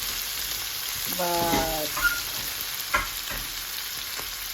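Garlic shrimp fry in olive oil, a steady close sizzle with a few brief stirring clinks, and one short spoken word.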